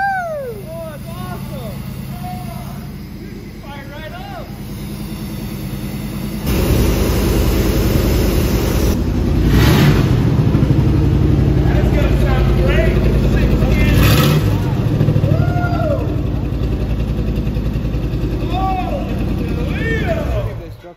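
A 1987 Chevy truck engine starts up after five years of sitting, then runs loud and steady with a deep, close rumble and surges of revving, while excited voices talk over it.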